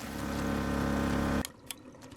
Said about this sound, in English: The water is actually flowing back into itself, it looks like